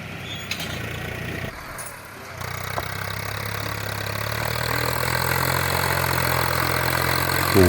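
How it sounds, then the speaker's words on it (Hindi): Tractor ploughing hillside fields, a steady mid-pitched diesel engine drone that grows louder and more sustained after a brief dip, close by and alone without talk. "ट्रैक्टर जो है खेतों की जुताई कर रहा है।"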